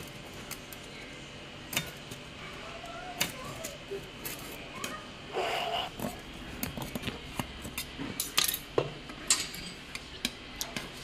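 A knife trims around the edge of a biscuit cake just taken off a gas stove, making faint, scattered clicks and scrapes against the cake tin. There are quiet pauses between the strokes.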